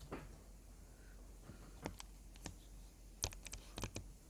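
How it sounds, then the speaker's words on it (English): Scattered keyboard typing on a computer during an online meeting: a few soft isolated key clicks, then a quick cluster of sharper taps near the end, fairly close and quiet, with no one speaking. "I'm not able to type properly."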